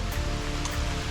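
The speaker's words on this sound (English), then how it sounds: "it has to be pouring rain" Dense, steady hiss of pouring rain beside a creek, with running water and close splashy patter filling the whole moment without a break.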